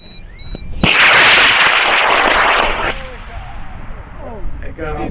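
A model rocket motor ignites with a sudden loud roar that holds for about two seconds, then fades as the rocket climbs away, and voices are heard before and after.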